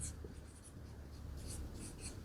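Pen scratching on paper while writing out a physics problem, faint close strokes in short bursts over a quiet room hum.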